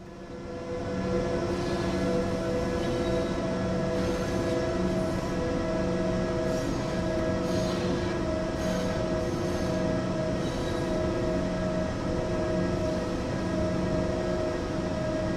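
A train running on the Semmeringbahn in Train Sim World, a steady loud rolling drone with sustained tonal motor whine and occasional wheel clatter, continuous for the whole stretch.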